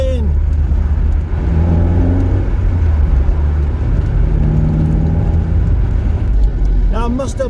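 An MG TF 135 sports car drives at a steady pace with a continuous low engine drone and road rumble, while people talk over it at points.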